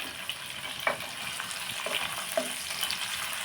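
Chicken with green chillies and onions fries in hot oil, giving a steady hiss with a few faint stirring knocks, close and continuous, with no talking.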